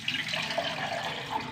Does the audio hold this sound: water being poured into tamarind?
yes